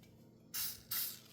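Cooking spray, silicone or canola, is spritzed onto a cheese grater in two short hissing bursts close up, each about a third of a second, with a brief pause between them in a quiet kitchen.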